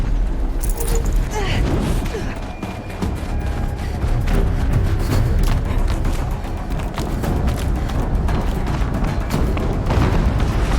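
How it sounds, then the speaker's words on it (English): Explosion in the action game Horizon Zero Dawn: dense, loud rumbling blasts and booming debris fill the whole stretch without pause, layered with gritty mechanical clatter and no voices. "An explosion."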